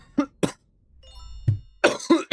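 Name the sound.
cough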